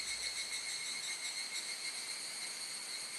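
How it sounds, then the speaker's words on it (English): Cicada droning outdoors near a house, a steady high shrill buzz with a layered tone that holds evenly for the whole span, moderately loud and without any talk. "it's different than the cicada that's outside my house right now"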